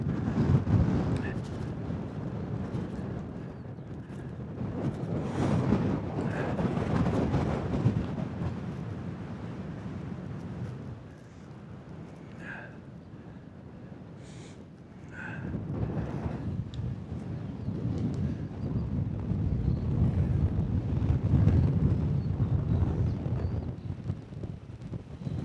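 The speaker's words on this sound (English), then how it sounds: "Oh, it's just so windy up here." Strong wind buffets the microphone on a hill summit, deep roaring gusts that swell and ease in waves, with a person talking intermittently beneath the blustery rumble.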